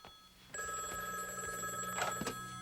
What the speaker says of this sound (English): and the phone rang